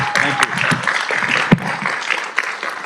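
An audience at a city council meeting claps for an honoured Citizen of the Month, a dense, steady round of applause with a few sharper claps and a thump standing out.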